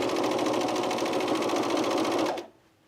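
A sewing machine runs steadily, stitching fold-over elastic to the top edge of a camisole with a bra shelf, in a fast, even whir that stops abruptly near the end and leaves near silence.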